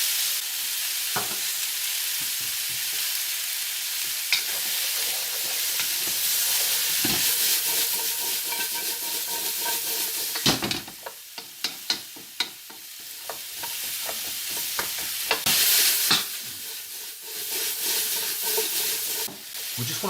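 Chopped peppers hit a hot stir fry pan already holding onions and celery for a quick chicken stir fry, with a steady loud sizzle and occasional scraping and stirring clatters over about twenty seconds.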